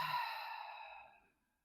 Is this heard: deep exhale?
yes